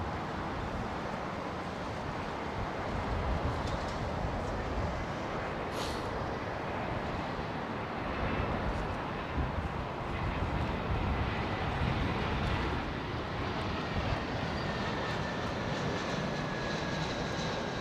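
Airliner arriving at London Heathrow Airport in the early morning, a steady broad engine roar that holds near and fairly loud throughout with slight swells, alone with no voices.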